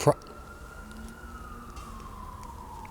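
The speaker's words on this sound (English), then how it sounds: "I apologize for the police sirens" A single police siren wails steadily in the distance, its tone slowly sliding downward beneath a low background hum in a mall food court in Montgomery, Alabama.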